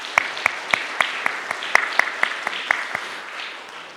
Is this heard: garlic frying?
no